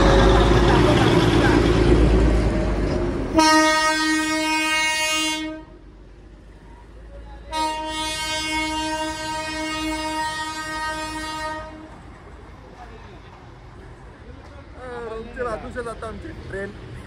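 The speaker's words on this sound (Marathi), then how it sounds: "ट्रेन आले. तुम्हाला ट्रेन दाखवतो." Darjeeling toy train sounding two long, loud horn blasts, each about four seconds, before rumbling past with rail clatter and fading, a voice speaking over the noisy opening.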